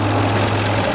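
A Jaguar XJ8 Vanden Plas with a 4.0 litre V8 idles close by, a smooth, steady low hum with a constant deep tone and no talking, held evenly for a second.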